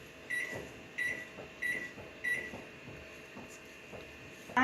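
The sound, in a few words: microwave oven beeping as its buttons are pressed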